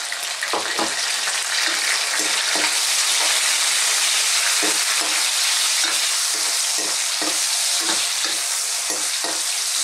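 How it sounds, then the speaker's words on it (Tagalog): Pig's liver and shrimp fry in a hot pan for Filipino pancit habhab, giving a loud, continuous close sizzle broken by repeated scraping stirs. "So lulutuin lang po natin ng ilang minuto yung ating pig's liver at ang hipon."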